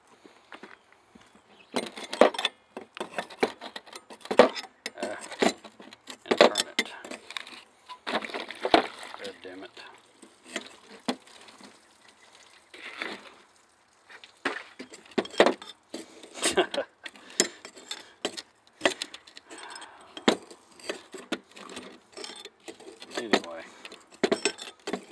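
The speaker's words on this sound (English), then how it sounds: "Take you a 17 millimeter wrench" A 17 millimeter wrench works the rear shock bolt of a 2010 Hyundai Sonata, giving repeated close metallic clinks and jangles in irregular bursts, with a voice in places.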